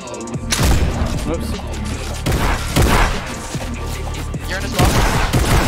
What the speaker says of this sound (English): now I'm gonna shoot him.